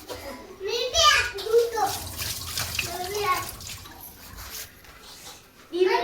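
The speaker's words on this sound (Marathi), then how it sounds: "आता पहिले हात धुतो मी एकदा." Hands are washed under a running kitchen tap, with a continuous splashing hiss of water under an adult and someone talking.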